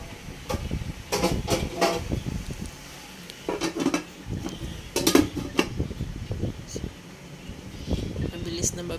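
Shrimp being stirred in a pan, with scraping and light clinking of a utensil against the metal in short bursts, close by under a steady background hum, and a person talking between the strokes.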